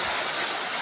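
A waterfall pours with foaming water, making a loud, steady broadband roar with no breaks, and no voices over it.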